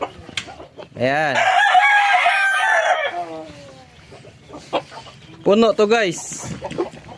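Backyard chickens clucking while a rooster lets out a long, loud crow close by, followed by more clucking and short calls, with someone speaking briefly between them.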